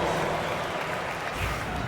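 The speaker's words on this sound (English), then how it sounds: "Give yourself a round of applause." In an NBA 2K25 basketball game, a crowd's applause and cheering rises as a steady wash of noise, moderately loud and continuous throughout.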